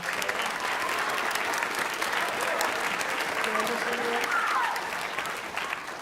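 An audience at a school band concert applauds steadily for several seconds, a dense wash of clapping that holds even and then eases slightly toward the end.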